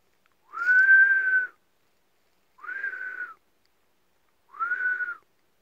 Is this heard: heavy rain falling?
no